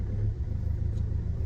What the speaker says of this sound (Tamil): காரை ஸ்டார்ட் பண்ணிட்டு அப்படியே கிளம்ப வேண்டியதான்